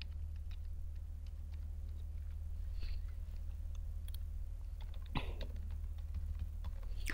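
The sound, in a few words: typing username on computer keyboard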